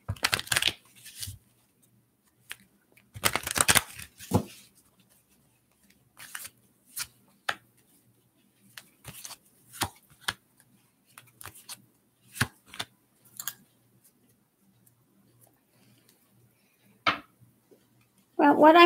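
Tarot cards being handled and shuffled, scattered short riffles and flicks separated by quiet gaps, close and crisp.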